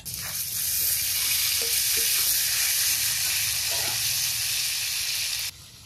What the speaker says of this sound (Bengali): এখন কড়াইতে মাছ দিয়ে মাছগুলো ভেজে নেবো।